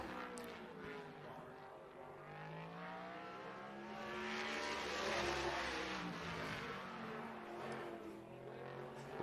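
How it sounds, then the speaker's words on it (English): Open-wheel sprint race car accelerating through turn one at The Bullring at Las Vegas Motor Speedway during qualifying, a distant engine roar that swells and fades, pitch climbing as the car laps. "I heard him get on the gas early in 1."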